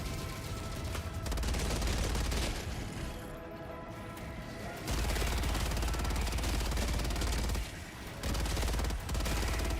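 Sustained automatic gunfire from a video game, loud bursts of rapid shots with muzzle flash firing, broken by short pauses and resuming in long dense volleys throughout.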